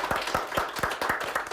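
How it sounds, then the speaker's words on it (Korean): A small audience of elderly listeners claps after a kidney health lecture, sounding as a sparse, rhythmic patter of individual hand claps, close and fairly quiet with no talking. "큰 박수 부탁드리도록"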